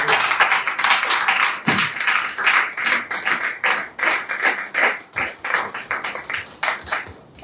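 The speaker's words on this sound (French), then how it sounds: "Est-ce qu'on peut acclamer très fort?" A church congregation at a French-speaking tabernacle worship service claps and cheers loudly, dense sustained applause with rhythmic hand claps throughout, no speech over it.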